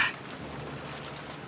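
Steady, faint rain patters as a soft continuous hiss in the Umineko When They Cry game, after a brief sharper burst at the start, with no voices.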